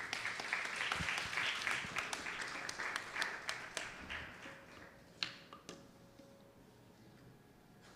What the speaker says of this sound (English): please welcome her to the podium with a round of applause